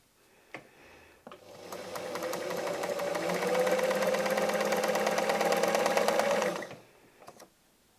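A sewing machine doing free-motion quilting while a laser pantograph guides the stitching, starting with a couple of short clicks, then running in one sustained steady hum of rapid stitching for about five seconds before stopping, close and clear.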